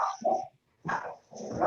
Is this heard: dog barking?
yes